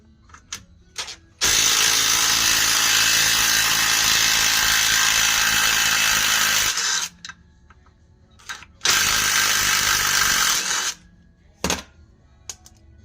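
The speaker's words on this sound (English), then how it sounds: "see if the little impact driver wants to, nut driver, I'm sorry, wants to help me out" A power nut driver whirs loudly while removing a bolt on the front end of a GMC Yukon, two long sustained runs of about five and two seconds separated by short clicks and knocks.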